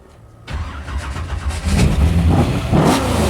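A 509 Gen 6 big block Chevy engine in a 1967 Corvette fires up after a short quiet moment, then revs loudly with rough, throaty surges close by.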